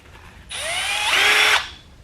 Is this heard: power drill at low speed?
yes